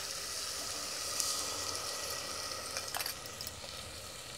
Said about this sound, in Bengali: এখন এর ভিতর দিয়ে দেবো এই যে সেই পেস্ট।